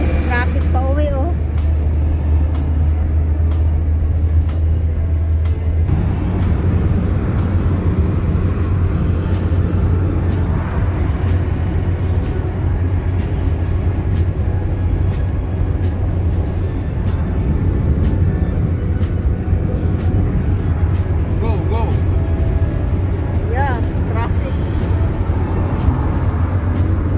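Steady road traffic and engine drone heard from inside a vehicle on a drive home in Herzliya, Israel, a continuous low rumble lasting throughout with people chatting over it.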